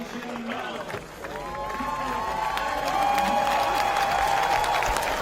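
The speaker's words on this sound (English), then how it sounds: "Warm applause from the crowd." Warm crowd applause and cheering swells at an archery world championship recurve final in Den Bosch, a broad steady wash of clapping that builds and holds, with a commentator's voice running over it.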